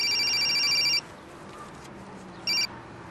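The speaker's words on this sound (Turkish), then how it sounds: "Pembe Hanım'ın telefonusudur." A telephone rings in two bursts, a long ring of about a second followed after a pause by a shorter one, fairly loud over a quiet room background.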